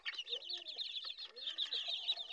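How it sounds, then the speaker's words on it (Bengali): Young, aggressive pure desi chickens, mostly cockerels, in a farm cage give faint, high, rapid cheeping calls that rise and fall throughout, with a low warbling note underneath. "ওরা অনেক এগ্রেসিভ মুরগি এবং এগুলো আমার পিওর দেশি মুরগির বাচ্চা।"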